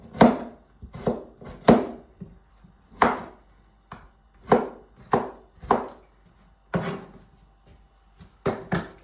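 Kiwi fruit being sliced into pieces on a cutting board, with about a dozen sharp knife chops that come in uneven bursts, close and fairly loud, with no talking.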